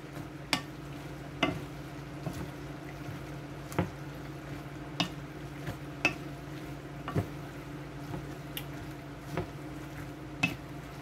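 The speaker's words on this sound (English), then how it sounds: "Mix in the ingredients. From the bottom to the top. And let this also cook down." Collard greens and chicken stirred in a cooking pot over medium heat, with a low simmering hiss beneath a string of distinct scraping and clanking stirs spaced roughly a second apart.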